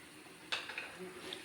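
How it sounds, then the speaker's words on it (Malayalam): Chili powder hitting hot oil in a pan while cooking a Kerala buttermilk curry with ash gourd, giving a quiet sizzle with a sharper spitting burst partway through and a few faint stirring clinks. "എണ്ണ വാങ്ങി വെച്ചിട്ടേ അതിനകത്ത് ഒരു ഇച്ചിരി മുളക് പൊടി ഇട്ട് കൊടുക്കണം"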